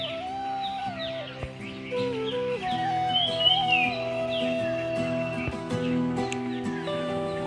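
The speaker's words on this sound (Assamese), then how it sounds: "আপোনালোকে চৰাই চিৰিকটিৰ মাতবিলাক শুনিবচোন বাৰু।" Birds chirp and twitter in scattered bursts around a flooded rural homestead where people fish in the floodwater, the calls sitting over a steady, droning tonal background with no talking.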